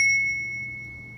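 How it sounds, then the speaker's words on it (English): An MSA firefighter air pack powers on with a sharp electronic beep that rings and slowly fades, heard alone in a quiet setting. "I turn on the air pack."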